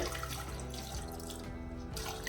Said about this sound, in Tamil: நான் இப்போ ஒரு அரை கப் தண்ணி சேர்த்துருக்குறேன்